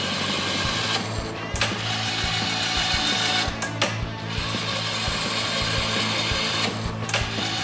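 A Babin Machine servo-threading setup on an HLV lathe cutting threads dry without coolant, with a loud continuous mechanical whir and periodic clunks as the tool rapidly retracts between passes.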